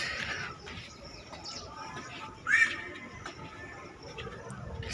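Birds chirp briefly over a quiet morning terrace backdrop, with one brighter call standing out midway against soft, steady ambient noise.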